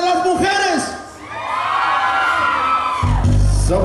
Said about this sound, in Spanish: el ambiente sigue y el grito de las mujeres.